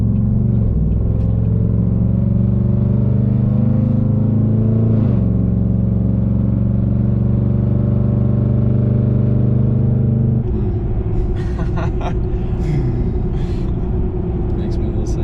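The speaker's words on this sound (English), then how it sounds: "Yeah, I love the exhaust." A pickup truck with an aftermarket exhaust idles with a deep, loud rumble, then the revs change and the tone shifts; the sound is close and continuous throughout.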